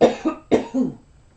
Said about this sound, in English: I talk and it makes me cough.